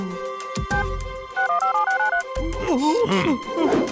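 A phone being dialed to call the police: a short run of electronic key tones and beeps, then an animated, cartoonish voice over lingering tonal sounds.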